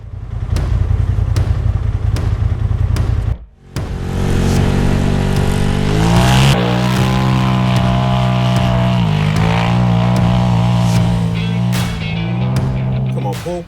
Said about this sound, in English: Must be my turn to show Paul how it's done in the Razor Turbo